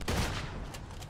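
Gunfire in the video game Uncharted 2: a short burst of several rapid shots, moderately loud, with no speech over it.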